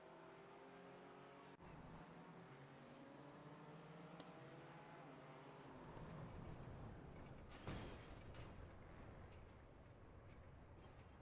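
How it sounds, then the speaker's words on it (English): A GT4 race car in iRacing follows closely behind at Snetterton, its engine a steady droning rumble that swells slightly midway, heard alone without talk. "I can hear a car behind"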